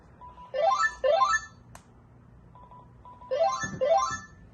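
A toy telephone from a thrift store rings in two pairs of bursts, each pair a trilling electronic warble over a steady tone, close and clear with a soft click between them.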